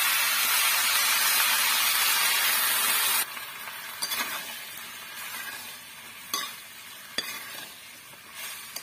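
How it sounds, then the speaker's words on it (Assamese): Soy sauce and tomato sauce fry for chili chicken, opening with a loud close hiss for about three seconds, then settling into a quieter crackle broken by stirring scrapes and clinks. "ইয়াতে দিয়া হৈ গ'ল চয়া চচ টমেটো চচ অকণমান ভাজি ল'ব লাগিব"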